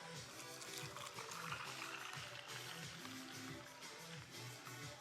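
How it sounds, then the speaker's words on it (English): Iced vanilla latte poured over ice in a cup, a steady liquid trickle and fill running continuously and close, with no talking. "I'm just going to pour it all over the ice here in my cup"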